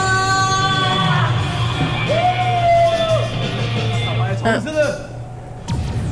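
People shriek and yell while running during an outdoor picnic game on a variety show, with one long sustained scream over rowdy crowd noise and talk.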